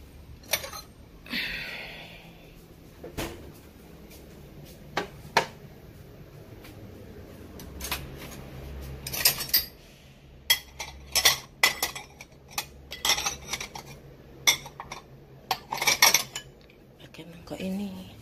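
Ceramic bowls are taken out and set down in a home kitchen during cooking, giving scattered clinks, knocks and rattles of dishes that come in bursts, denser toward the end, over a low hum and some soft talk.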